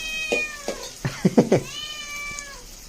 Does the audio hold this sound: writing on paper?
no